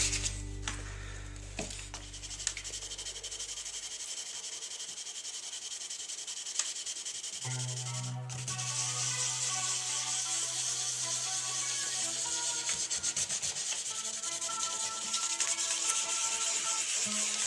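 Clear coat being sanded on a black-painted guitar neck, a steady close-up scratchy rubbing that runs without a break, with a short pause partway through and a low hum at the start.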